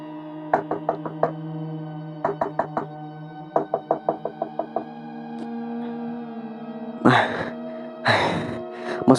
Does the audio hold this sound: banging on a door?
yes